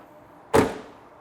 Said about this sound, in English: Doors close really easily.